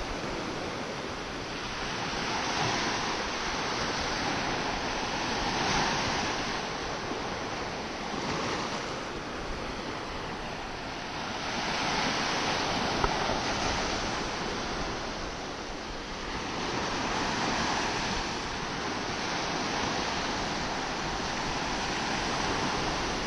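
Sea waves wash onto the shore at Bang Boet in Thailand in the evening, a continuous broad roar that swells and recedes in slow, regular surges, with no voices.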